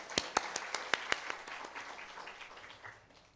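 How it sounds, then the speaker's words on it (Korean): A church congregation at a Sunday afternoon worship service claps in a quick run of sharp, rhythmic claps that blur into brief applause and fade out within a few seconds. "박수 부탁드립니다"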